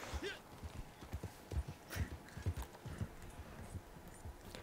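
Horse hooves clip-clop steadily in the Red Dead Online video game, a brisk, close rhythm of hoofbeats with faint ambient game sound behind.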